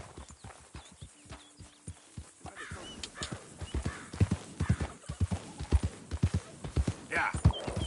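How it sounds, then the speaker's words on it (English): Hooves clip-clop in a quickening, uneven rhythm in the video game Red Dead Redemption 2, growing louder as the horse moves closer, with a short snort or whinny along the way. "That's a nice horse."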